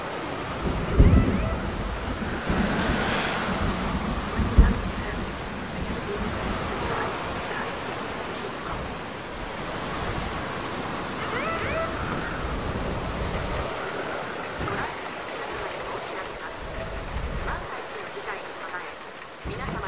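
A thunderstorm rolls through the video game Jurassic World Evolution 2, with steady heavy rain and deep thunder rumbles, including a couple of sharper cracks early on, while a person talks over it.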